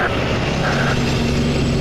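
Air Transat airliner taking off at Toronto Pearson airport, heard as a loud, steady roar of jet engines with a broad rumble that holds throughout and has no breaks. No talking.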